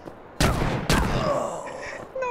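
Machine gun fire in the video game Farworld Pioneers: two loud, close bursts of booming shots with ringing tails, then a fainter metallic clatter near the end.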